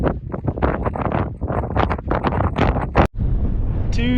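Strong wind buffets the microphone atop Frigid Air Pass, a steep Colorado mountain pass, during a trail run, with loud, continuous gusty rumble that cuts out abruptly near the end.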